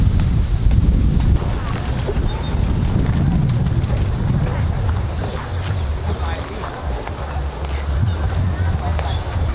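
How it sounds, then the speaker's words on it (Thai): Cool wind blows through a gap between limestone rocks at Hin Khao Ngu park in Ratchaburi, buffeting the microphone as a loud, steady rumbling gust throughout. "เดินมาแล้วก็จะมีลมเย็นๆพัด"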